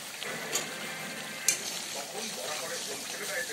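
Potato and soybean vegetarian curry masala sautéing in a pan gives a quiet, steady sizzle with a couple of sharp stirring scrapes and clinks, faint and continuous throughout.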